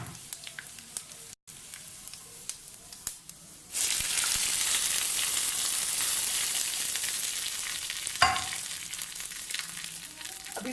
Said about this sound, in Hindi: अब इसको मैं तेल गरम करके 1 टेबलस्पून तेल में मैं गरम करके और इसको इसके ऊपर बघार दे दूंगी।